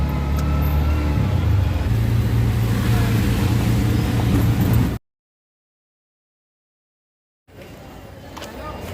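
An auto rickshaw heading to Mira Road station gives off a loud, steady engine drone and road rumble from inside the cab. The sound cuts out briefly, then returns more quietly.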